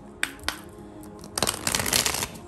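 A deck of cards being shuffled at close range: two quick riffle snaps near the start, then a longer dense riffling burst, with no voices.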